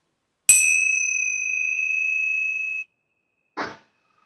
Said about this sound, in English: The sound of the bell, connect to your breath.